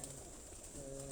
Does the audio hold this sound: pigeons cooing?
yes